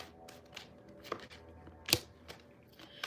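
A deck of cards being shuffled close by, several quick riffles and soft flicks with one sharper snap near the middle, quiet and alone.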